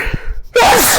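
A single loud, close sneeze bursts out after a few soft breathy intakes and a short pause.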